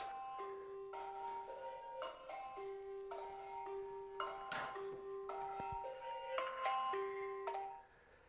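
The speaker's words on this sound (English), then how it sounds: "that is my alarm to know how soon I need to finish" Alarm marking the end of an exercise session, playing a bright chiming melody of repeated bell-like notes in a steady pattern for several seconds before cutting off.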